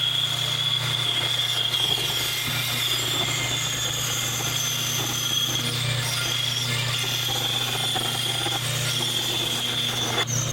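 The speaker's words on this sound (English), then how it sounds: "I'm going to cut it out on the bandsaw" Bandsaw cutting an S-shaped curve through a wooden board for a maple and walnut entry table, a loud steady motor whine and blade hum running without a break.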